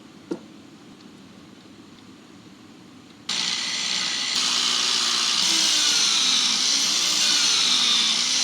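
Power drill boring holes through clamped pieces for a custom Apple Xserve RAID case: a click, quiet pause, then a loud steady high-pitched drill whine that continues to the end.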